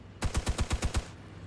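Seven rapid gunshots in a tight burst ring out loud and close, a short rattling volley of infantry rifle fire from a mechanized rifle squad firing from a building in the Armored Brigade II war game.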